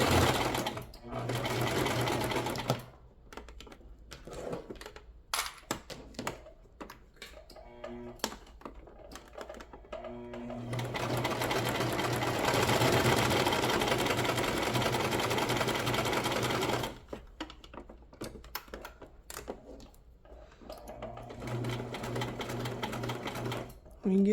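A sewing machine stitches scrap fabric in several bursts of steady, rapid whirring, with a long continuous run in the middle and short pauses between runs, close and clear, with no talking.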